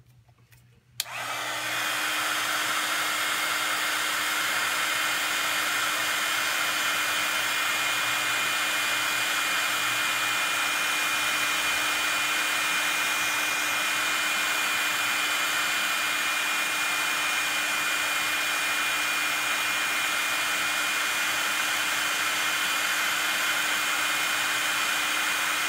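Heat tool switched on to melt embossing powder on a card, starting with a click and then a loud, steady blowing whir with a constant hum that runs on unbroken and close for the whole stretch.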